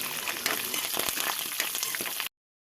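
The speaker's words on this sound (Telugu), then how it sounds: "ప్యాన్లో 1/4 కప్ ఆయిల్ హీట్ చేసుకొని దాల్చిన చెక్క, లవంగాలు, యాలకులు, 2 బిర్యానీ ఆకులు, కొన్ని జీడిపప్పులు వేసి ఎర్రగా వేయించుకోవాలి" Cinnamon, cloves, cardamom, bay leaves and cashews fry in a quarter cup of hot oil in a pan, giving a steady, close sizzle and crackle that runs evenly for about two seconds and then cuts off.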